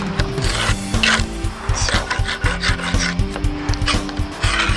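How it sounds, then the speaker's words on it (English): Rough, rhythmic rasping of sandpaper rubbed back and forth on wood, loud and close, with repeated strokes and a low hum underneath. "A little bit of sanding, a little bit of elbow grease."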